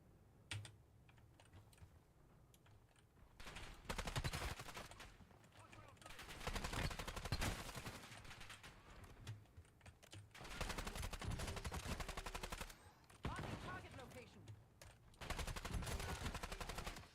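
Rapid bursts of video game gunfire during an online team shooter livestream, coming in repeated loud volleys separated by short lulls, with keyboard clatter throughout.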